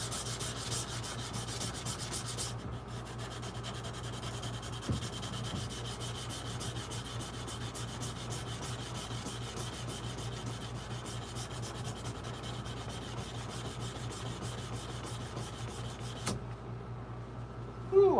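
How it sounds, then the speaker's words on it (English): A lawn mower blade is hand sanded in a shop, giving a steady, continuous rubbing and scraping that runs nearly unbroken at moderate level, with faint background hum. "I am going to continue hand sanding this blade a little bit."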